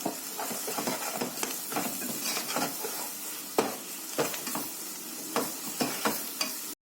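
Garlic, black pepper and cumin with a little salt sauté in a pan, a crackling sizzle broken by frequent scraping spoon strokes, then an abrupt cut to silence.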